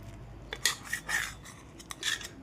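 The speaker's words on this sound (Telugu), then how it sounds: "చాకుతో కట్ చేసి ఎలా వచ్చిందో చూద్దాం." A knife cutting through a boiled egg omelette on a plate, light scraping and clinking strokes against the plate, quiet and close, a few short bursts with no voices.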